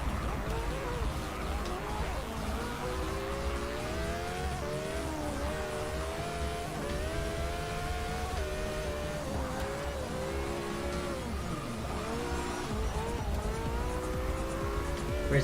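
A race car engine in Forza Motorsport 6 during a race at Virginia, with a high-pitched engine whine climbing and dropping through gear changes. The drone is continuous, with faint tire noise and occasional quiet speech underneath.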